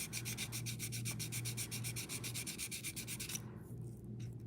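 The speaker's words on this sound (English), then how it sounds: "I definitely gotta sand down this top area a little bit here." Sandpaper rubs back and forth over the top area of a model to clear glue marks, a quick, regular rasping rhythm close to the mic that slows near the end, with no talk.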